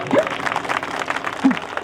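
Audience applause at a live Punjabi concert, a steady wash of clapping from a crowd across the whole moment, with brief voices rising over it.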